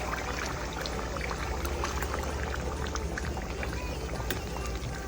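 Hot water pours into a pot of chicken biryani with a continuous splashing trickle over a few seconds, fairly close, with faint background voices.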